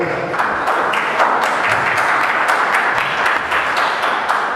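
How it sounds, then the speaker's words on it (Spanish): An audience at an academic event welcomes a doctor with applause: dense, continuous clapping from many people in a room, fairly loud and even throughout. "Un aplauso para él,"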